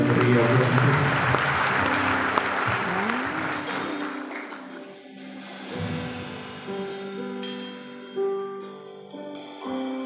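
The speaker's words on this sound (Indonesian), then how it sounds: "Kita berikan tepuk tangan sekali lagi yang paling meriah buat Tuhan." A church congregation claps loudly for God during a worship service, a dense burst of applause that fades as music and a voice carry on over it.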